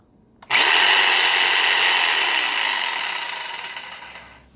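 A Bosch 1590EVS orbital jigsaw starts abruptly and runs at a high, steady whine, holding full speed for several seconds before tapering off slightly.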